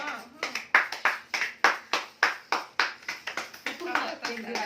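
Family clapping hands together at a small home celebration, a run of sharp, fairly close claps in an irregular rhythm, with a voice and talking mixed in.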